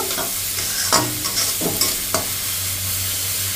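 Fish curry masala with salt is stir-fried in a pan, a close steady sizzle broken by a few sharp scraping strokes of the spatula, with no talking.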